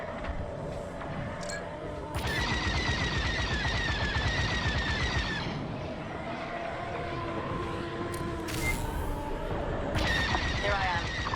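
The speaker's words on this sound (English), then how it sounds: "All turrets open fire on those ships." Turrets blasting at ships in Star Wars: Squadrons, a dense run of space-combat fire and impacts, loud and continuous, with voices and in-game dialogue over it.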